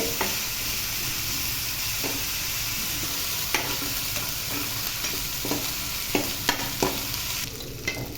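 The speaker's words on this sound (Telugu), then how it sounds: "ఈ అల్లం వెల్లుల్లి పేస్టు పచ్చి వాసన పోయే వరకు చక్కగా వేగనివ్వాలి." Ginger garlic paste fries in a pan with a steady hiss and sizzle, broken by occasional sharp taps and scrapes of a spoon stirring it, close by and without talk.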